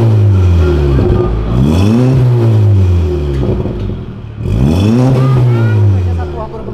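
A Volkswagen Jetta fitted with a sport exhaust revs hard twice, each time rising in pitch and then falling as the driver downshifts and accelerates. It is loud and close inside the car, with voices talking over it.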